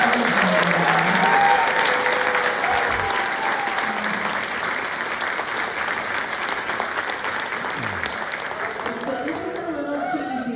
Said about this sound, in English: Let's give it up, a big round of applause for all of them.